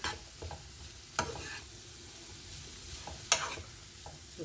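Carrot fry sizzles gently in oil with chili powder, with occasional sharp stirring scrapes against the pan.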